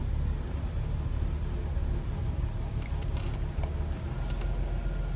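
A 1995 Pontiac Firebird engine idling steadily in a yard, a constant low rumble with broadband hiss throughout and a few faint clicks partway through.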